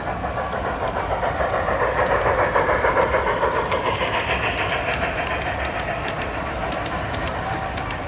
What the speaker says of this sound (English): there's your train for today